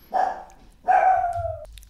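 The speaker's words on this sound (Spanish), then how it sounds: "tuve que parar porque mi perro empezó a ladrar" A pet dog barks twice at close range indoors, the second bark drawn out into a falling whine, with no talking.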